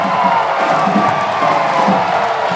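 A volleyball crowd at a Hawaii Rainbow Warriors men's match against UCSB roars and cheers after a serve, a dense sustained wall of shouting and whoops that fills the arena without pause.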